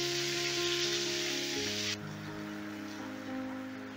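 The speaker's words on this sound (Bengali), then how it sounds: "পটলগুলোকে আমি হালকা লাল করে ভেজে নেব" Pointed gourd (potol) pieces frying in hot oil, a steady broad sizzle that drops abruptly to a quieter, duller crackle partway through, with a low hum running underneath.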